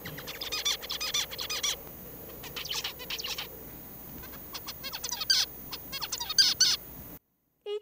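Songs of several songbirds, recorded as a series of bright, quick chirping phrases separated by short pauses, clear and fairly close over a low hiss.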